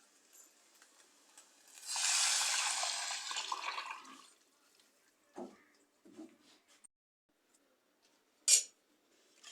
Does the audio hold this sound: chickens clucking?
no